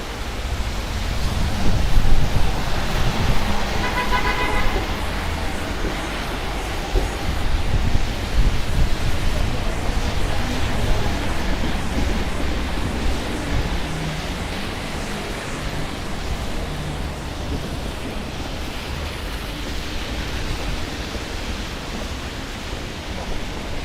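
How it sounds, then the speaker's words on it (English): Strong wind roars across the microphone in a continuous broadband rush on a Manhattan street, gusting louder early on and easing slightly later, with no voices. "It is super, super, super windy."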